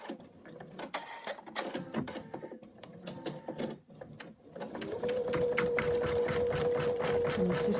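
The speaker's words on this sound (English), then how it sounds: "now we take the hoop back to the machine, and the next thing it's going to stitch out is the center marking" An embroidery machine stitching a center-marking basting stitch on a hooped project, first in quick irregular bursts of needle clatter, then settling into a steady, even whirring drone.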